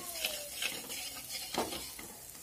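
Spice paste with turmeric and chilli powder is sautéed in a pan for a mola fish curry, a faint soft sizzle with a few scraping stirs of a spatula, quiet and close, no talking.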